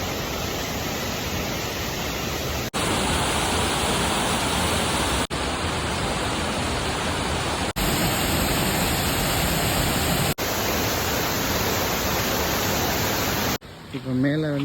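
A steady, loud rush of water flows along a mountain path, close and continuous, with brief cuts between segments and a voice speaking over it at the very end.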